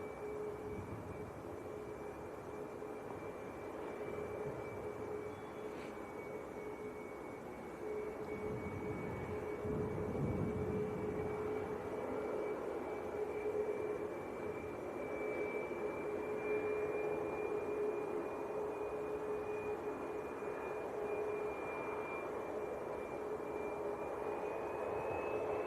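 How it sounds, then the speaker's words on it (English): A year-old Ryanair Boeing 737 MAX 8 jet at Leeds Bradford Airport, its engines a steady distant roar with a sustained whine running throughout, faint and unbroken, heard from afar with no talking. "The Ryanair that we're looking at now is out to Dublin. New aircraft, only a year old this one, a 738 MAX, or a MAX 8"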